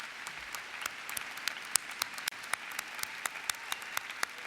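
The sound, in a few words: audience applause for department chairs and faculty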